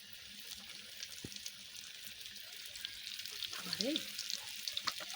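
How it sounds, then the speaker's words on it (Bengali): Food frying in oil in a large wok for a family picnic, a faint continuous sizzle with soft crackles and a brief clink of a utensil, heard from some distance. "আরে একে একে আমি ভেজে নিচ্ছি"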